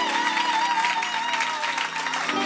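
A church congregation applauds in a continuous, dense patter of many hands clapping, filling the whole short stretch without pause.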